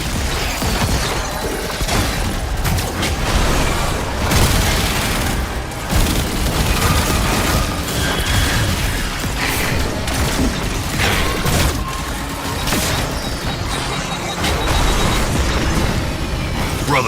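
Loud, dense video game explosions and booming blasts in a chaotic sequence, with bursts and pops layered over continuous rumbling action throughout.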